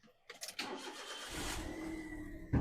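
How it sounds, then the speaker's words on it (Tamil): A car engine cranks with a few uneven turns, catches, and settles into a steady running idle that stays close and fairly loud, ending with a brief louder burst. "இன்ஜின் இப்போ நம்ம ஸ்டார்ட் பண்ணிட்டோம்."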